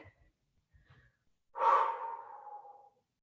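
A single heavy, drawn-out exhale during an exercise workout follows a few faint short breaths, and it fades gradually.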